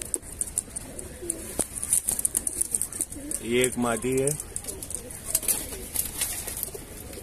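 Highflier pigeons for sale in Andheri West coo once in a short, close, rolling burst, alongside faint chirps, while someone talks over the scene.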